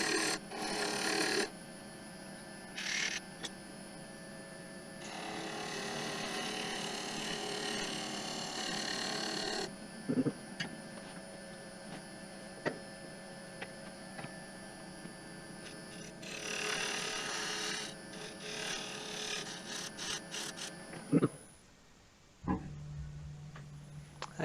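Woodturning lathe cutting a tenon on a piece of cherry branch wood, a steady broadband whir and scraping hum with bursts of harsher cutting and a few sharp knocks, ending abruptly.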